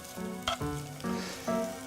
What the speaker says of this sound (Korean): 이제 양파를 이렇게 볶아주세요.